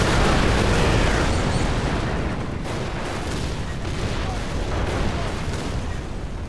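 Explosions in the Far Cry 3 map editor boom in a loud, heavy roar that slowly decays into rumbling, with further blasts rolling underneath.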